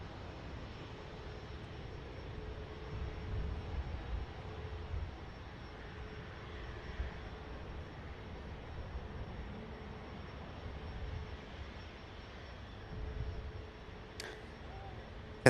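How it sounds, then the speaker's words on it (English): An Egypt Air airliner approaching Manchester Airport gives a steady, distant low engine rumble that swells gently and holds for the whole stretch, with no talking. "about to come in shot the beautiful Egypt Air"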